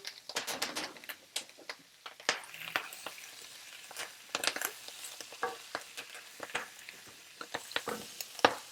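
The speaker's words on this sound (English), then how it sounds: "I'm just going to take ghee, and then I'm going to just throw in the broccolette. Woo, it's going to get poppy." Broccolini frying in browned ghee in a cast iron skillet, a close hiss with irregular sharp pops and crackles spread throughout.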